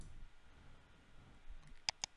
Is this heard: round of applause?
no